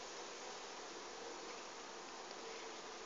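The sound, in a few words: honey bees flying near the hive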